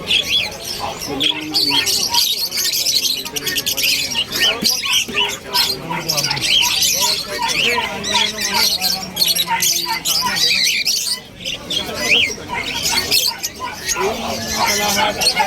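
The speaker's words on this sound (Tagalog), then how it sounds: "Ang daming ibon, ang ganda." Many birds squawk, chirp and call together at a busy pet market. The calls are dense and constant, with people talking nearby throughout.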